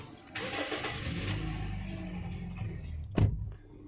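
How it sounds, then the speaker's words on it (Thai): A Toyota Vios 1.5E car engine cranks and catches near the end, a short loud burst that settles into a low running hum after quieter rustling inside the cabin. "เดี๋ยวเรามาสตาร์ทรถ"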